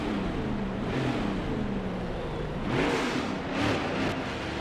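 Race car engines rev and whir in the NASCAR Heat 5 video game, a steady mid-pitched drone that swells briefly twice, with no talking over it.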